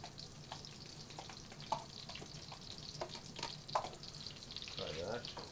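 Minced onion sautéing in a pan gives a quiet, even sizzle with soft stirring scrapes and a couple of small clinks, all fairly low in level.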